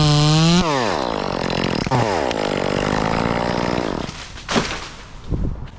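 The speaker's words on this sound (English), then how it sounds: "I just need to cut off like these 3 stems and this one in front of me." A chainsaw cuts through the stems of a dead tree, loud and close. It revs high, bogs down as it bites into the wood, then drops away into short bursts and idling.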